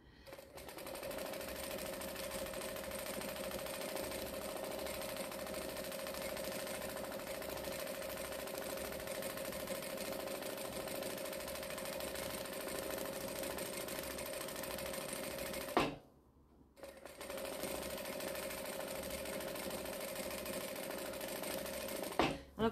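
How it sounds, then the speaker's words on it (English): A sewing machine stitches across fabric in a long, steady, close mechanical whirr, stopping briefly near the end before running again. "I'm just going to stitch across to here and come down and do this side."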